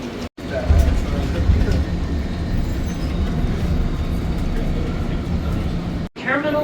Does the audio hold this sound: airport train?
yes